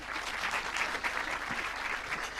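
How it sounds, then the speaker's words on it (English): An audience at a foundation launch ceremony in Kenya breaks into sustained applause, many hands clapping together in a lively, even wash of sound with no talking. "You can clap for me, please"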